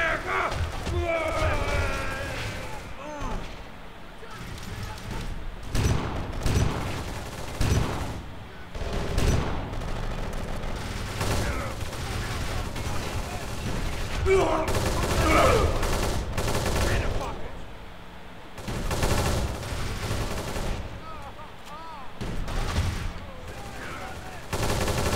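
Rapid gunfire bursts and heavy impacts from the video game Kane and Lynch 2 crackle densely throughout, mixed with game sounds and someone talking over the shooting.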